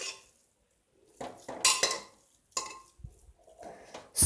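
Cashews stirred into ven pongal in a metal pan: a handful of scraping spoon clinks and pan knocks in short bursts separated by quiet gaps, close and clear with no talk.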